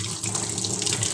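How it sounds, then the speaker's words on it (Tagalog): Water flows continuously through the purge unit of an Epson L3210 printer, a close, steady splashing stream with no speech. "So, dapat continuous yung tubig."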